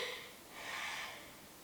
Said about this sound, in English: can you hear how hard I'm breathing?